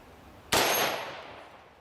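Green tip rifle rounds strike a titanium plate, giving one sharp, loud impact crack with a metallic ring that decays over about a second, heard alone.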